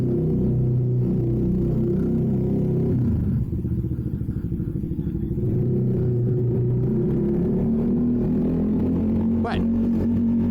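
A CFMoto 300nk motorcycle carrying two riders rolls through a parking garage, its engine a steady, close low drone echoing off concrete with a brief rise in revs near the end.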